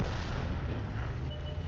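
Continuous rumbling low-frequency battle noise from artillery fire in the tank game World of Tanks, a steady dense roar with no distinct separate blasts, no voices.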